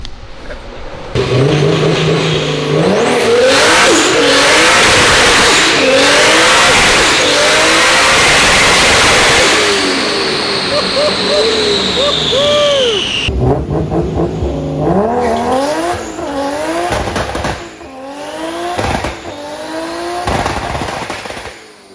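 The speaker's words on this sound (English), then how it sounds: "Flat foot shift this thing on the dyno." A JZ-swapped Nissan S13 coupe roars at full throttle on a dyno, its engine climbing hard with sharp machine-gun pops and crackles at each flat-foot shift, then dropping to a choppy, popping idle after the run, loud and close throughout.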